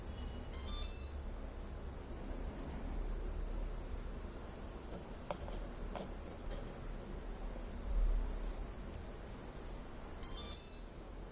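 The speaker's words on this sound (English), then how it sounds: "So that's beep beep and continuous beep." Two short high-pitched electronic initialization beep bursts from a PMBLDC motor controller in a solar-PV battery-fed EV, near the start and end, with faint clicks and low hum between them in an otherwise quiet space.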